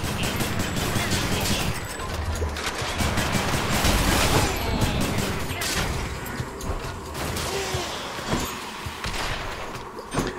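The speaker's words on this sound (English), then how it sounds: "Everything is exploding" Explosions and chaotic combat in the video game Hades, a dense, loud, continuous wash of blasts and crashes with scattered sharp hits, and a voice faintly under the din.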